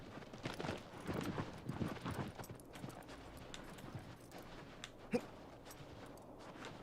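Horse hooves clop in Shadow of the Colossus on PS4 as the horse slows to a halt: a run of moderately loud, rhythmic hoofbeats in the first few seconds thins out, followed by one sharp knock near the end.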